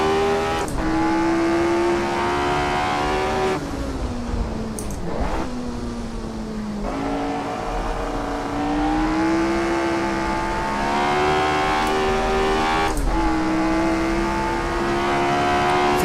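A Lotus 25 vintage race car screams around Brands Hatch in Assetto Corsa, its high-pitched engine rising and falling steadily through gear changes and corners, loud and close throughout with no talk.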